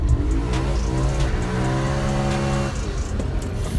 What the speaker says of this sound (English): Taking Dean out in the M3. Come on, roll it.